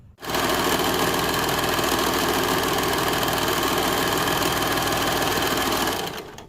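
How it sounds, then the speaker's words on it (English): A sewing machine runs steadily while stitching a seam in fabric, a close, loud, continuous motor hum with rapid needle chatter that starts and stops cleanly, with no talking. "Once you're done pinning, you can take it to the machine and stitch"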